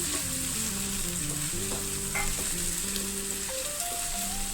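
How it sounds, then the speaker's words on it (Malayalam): Slit green chillies go into a chicken curry sizzling in the pan, giving a steady, close frying hiss throughout with soft tonal background music underneath. "ഇനി ഇതിലേക്ക് 2 പച്ചമുളക് കീറിയത് ഇട്ട് കൊടുക്കാം."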